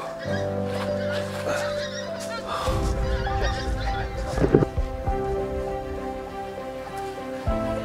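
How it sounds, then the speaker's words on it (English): Several geese honk repeatedly nearby at Blackpool's abandoned salt mine, their harsh calls overlapping against a noisy outdoor background. "Those geese are still talking to me."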